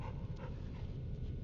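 A dog companion in the video game Fallout New Vegas pants in quick, rhythmic breaths, close and moderately loud, with no talk over it.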